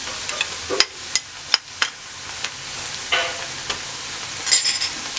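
Steady sizzling of garlic, ginger and green chili paste frying in a pan, with scattered clicks and scrapes of a spoon stirring, close up and without speech.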